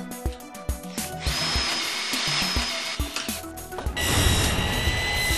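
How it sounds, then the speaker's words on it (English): A power drill drives self-tapping screws through metal track into 1x4 wooden spreaders on an insulated concrete form wall, with repeated short whirring bursts and clicks followed by a sustained close, loud drilling whine. "fasten the metal track to the 1x4 spreaders using the chalk line as a guide with screws through the metal track"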